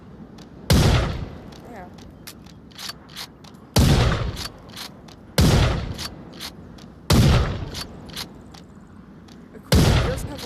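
Gunshots from a gun in the VR game Onward: four loud, sharp reports spaced a few seconds apart, each followed by a decaying tail, with a brief spoken word between them.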